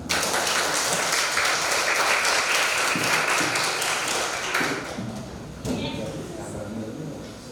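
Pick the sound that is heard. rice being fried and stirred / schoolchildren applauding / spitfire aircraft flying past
schoolchildren applauding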